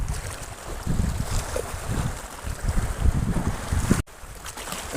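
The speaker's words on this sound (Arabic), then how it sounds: "النهارده زي ما قلنا الريح شديد شويه" Strong wind gusts across the microphone on a boat at sea during fishing, with steady low rumbling buffeting, a brief dropout near the end, no talk.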